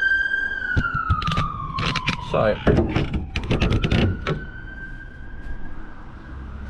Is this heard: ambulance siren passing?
yes